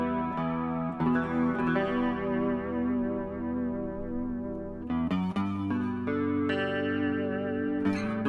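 A distorted electric guitar with split humbucker pickups, through a Line 6 Helix, plays sustained chords and notes with a bright, slightly chorused tone, steady and loud, no voices.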